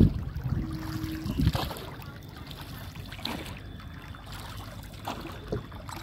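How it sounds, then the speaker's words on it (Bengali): Small boat gliding across a village pond, with soft water lapping and trickling against the hull, a few light knocks and paddle-like splashes, all quiet and close with an outdoor breeze behind. "এই পুরো পুকুরটা আমরা ঘুরবো এই নৌকায়।"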